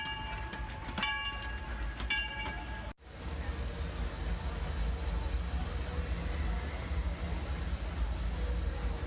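A Disneyland Railroad train rolls past, with a short whistle-like tonal call at the start followed by a steady, loud rumble of rail noise that carries on for several seconds.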